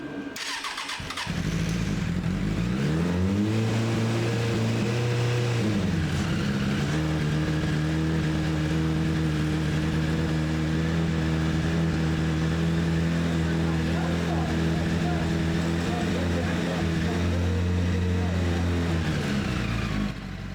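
A Suzuki Bandit 600 four-cylinder motorcycle engine starts on full choke after a carburetor refresh, then settles into a loud, close, slightly uneven idle with a brief rev early on, running continuously.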